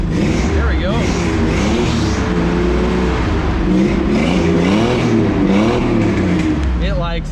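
An old Toyota pickup truck engine, loud and close, running and revving repeatedly with rising and falling pitch throughout, while a person talks over it.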